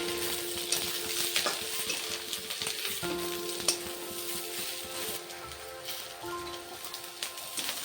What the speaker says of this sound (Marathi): आता मी हे कांदा हा मोठावाला आणि शिमला मिरची हे टाकून घेते. ते 2 मिनिटं परतून घेणार आहे.